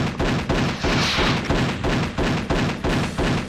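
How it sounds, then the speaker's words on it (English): Gunfire and a tank blowing up in the shooter game Action Doom, fired from a pistol: a dense, loud run of repeated bursts and booms at a steady rhythm, with heavy low thumps throughout. "I blew up a tank with a pistol!"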